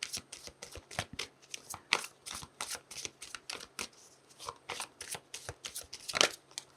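A deck of tarot cards is shuffled by hand in a quiet room, a steady run of quick, crisp riffling bursts repeating close to the listener, with no voices.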